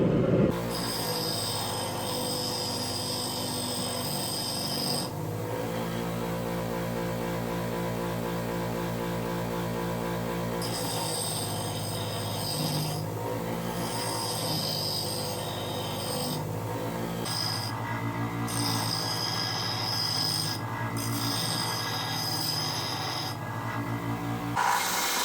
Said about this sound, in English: clean it up with the grinder.